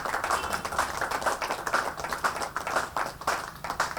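Children clap together to welcome a guest at a vocational training centre in Nawrangpur, producing steady, dense applause with a rapid, uneven patter that continues throughout.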